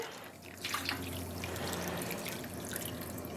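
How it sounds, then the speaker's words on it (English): Water is poured from a container onto yarn for dyeing, giving a steady splashing, trickling flow heard close and alone. "I'm going to pour on the water"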